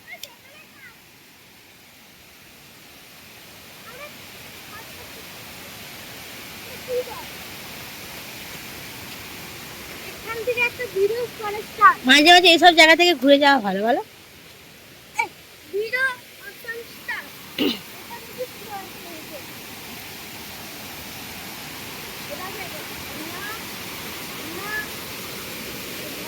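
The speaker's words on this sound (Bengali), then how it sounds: "শুধু ঝর্নার শব্দ শুনতে পাচ্ছি আর কিচ্ছু নয়" A waterfall in a quiet, remote hill setting gives a steady broadband rush throughout, while people chat over it in the middle and later parts.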